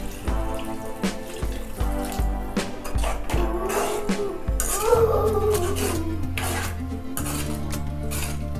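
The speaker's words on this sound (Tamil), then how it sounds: "இப்போ இதில் வந்து தேவையான அளவு தண்ணி சேர்க்க போகிறோம்." Water is poured into a pot of potato and pea kurma, with splashing and repeated metallic clinks of a utensil against the pot, close and continuous with no talking.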